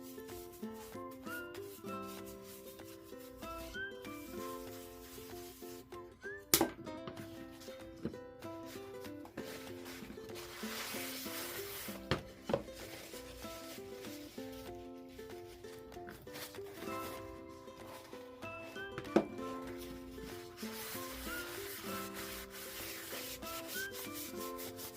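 Clear wax is rubbed by hand onto milk-painted thrifted decor in soft, repeated scrubbing strokes, close and quiet, with occasional sharper knocks.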